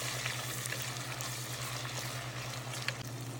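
Ginger, garlic, onion and tomato sauté in hot oil for a Thai massaman fish curry, giving a constant dense sizzle with occasional faint scrapes and a steady low hum underneath.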